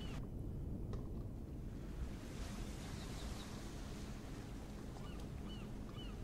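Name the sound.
water and waves after dropping into water in Empyrion video game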